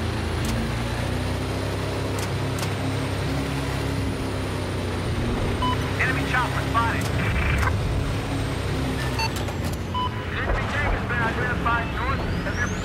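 Helicopters drone steadily in Battlefield 4 as a player in a boat shoots them down, with scattered sharp bursts of action sounds over the constant engine hum.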